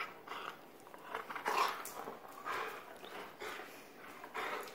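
A dog chews and gnaws on a toy close up in irregular bursts, with soft snuffling and wet mouth sounds between bites.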